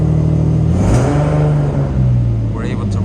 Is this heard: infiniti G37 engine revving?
yes